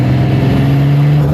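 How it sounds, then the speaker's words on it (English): A turbocharged car engine gives a loud, steady tonal drone with a rising whine layered on top. It is heard up close from inside or beside the car, with no talking over it. "the turbo noise"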